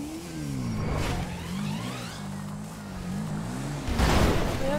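A car engine in GTA 5 hums and shifts pitch as the vehicle speeds along, revving up and down with a swelling rush of noise near the end, loud and close with no talk.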